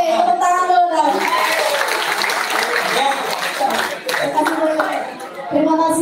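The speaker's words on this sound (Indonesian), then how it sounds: "tepuk tangan dulu dong" An audience at a university public lecture claps in a scattered burst while voices talk and murmur over it nearby.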